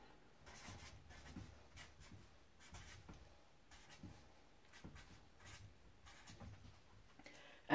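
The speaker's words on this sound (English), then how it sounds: "let's write down the Pythagoras formula." A pen or pencil writes a formula by hand on paper, with soft, close scratching strokes arriving in short bursts separated by brief pauses, quiet and alone.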